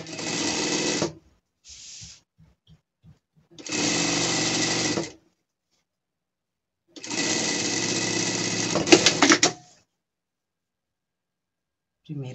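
A sewing machine stitches a seam on a pet gaucho costume, running in three loud, steady bursts with a short stutter between the first two and quiet gaps.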